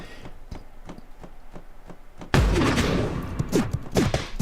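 Explosive gunshots in a video game come as a series of faint, evenly spaced shots, then a sudden loud burst of blasts and rumbling impacts. The blasts continue with several sharp hits to the end.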